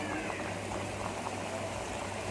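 Oil heating in a pan on a medium flame for frying shakkar para, a steady soft sizzling hiss with faint bubbling throughout, close and even, with no talking.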